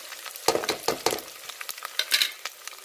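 Garlic-ginger paste and spices fry in a pan for palak chicken, with a close, crackling sizzle broken by irregular scraping stirs and no voices.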